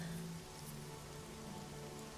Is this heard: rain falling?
yes